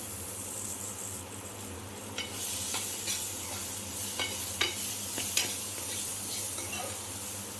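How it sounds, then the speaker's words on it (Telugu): Guava pieces fry in a little oil, a soft continuous sizzle with several distinct stirring scrapes and clinks spaced through it, close and fairly quiet, with no talk. "ఇంట్లోకి కొంచెం ఆయిల్ వేసుకొని జామకాయ ముక్కలు వేసుకోవాలండి"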